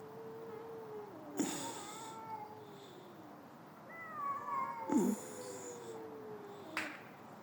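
Aggressive cat giving drawn-out growling yowls and caterwauls, close and fairly loud, with sharp hisses and spits breaking in between over a quiet background.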